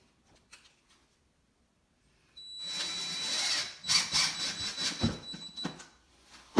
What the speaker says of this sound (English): fasten it down with the screws that it came with. They're Phillips. Change out my bit.